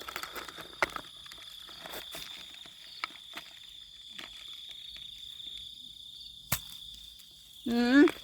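Crickets trill in a constant high-pitched chorus, with scattered clicks and taps, and a short voiced sound near the end.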